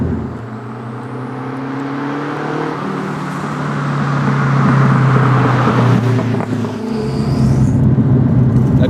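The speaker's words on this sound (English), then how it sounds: "the engine right behind you is a bit noisy" A Renault 5 Turbo's rear-mounted engine drones from right behind the cabin while driving, a steady low rumble that swells louder midway as the car pulls, with road noise underneath.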